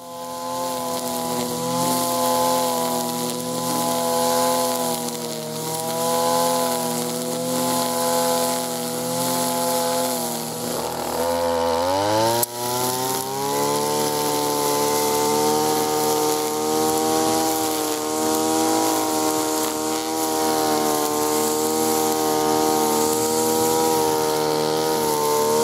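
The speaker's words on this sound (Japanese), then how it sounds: "一本狩りがうまく機能しているときはこのような音がします。" A Benkei Works TB02 brush cutter with a single-line cutting head cuts grass: a loud, close, steady two-stroke engine drone with line buzz, its pitch dropping and rising again around the middle, then running on evenly.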